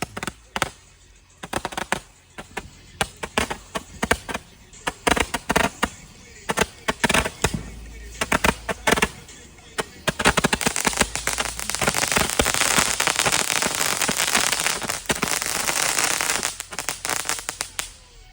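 Fourth of July fireworks and firecrackers going off outdoors, a string of sharp loud pops and bangs followed by a dense continuous crackling barrage, near and loud, with no talk.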